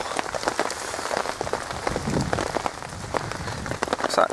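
Rain thumping on a tarp over a wild camp, a dense patter of close drops striking taut fabric with heavier irregular thuds, steady and fairly loud with no voices.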